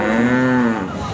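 A Holstein Friesian cow at the Sangola cattle market gives one long, close, loud moo that fades at the end.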